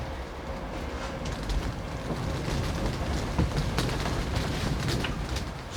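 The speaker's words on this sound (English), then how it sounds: "the wind's in the right direction for you to hear the trains" A steady low rumble of a train rolling past in the distance, heard from a polytunnel build site, heavy wind noise blowing over it throughout, with no voices.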